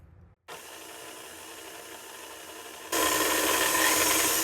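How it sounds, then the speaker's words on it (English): Stand mixer with a paddle attachment beating soft pretzel dough on medium speed: a brief pause, then a steady whirring motor that abruptly jumps to a louder, brighter, more intense whir partway through, with no talk. "I have inserted the paddle attachment, and now we're going to put it on medium and"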